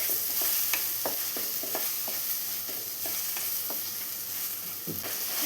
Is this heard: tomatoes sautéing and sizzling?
yes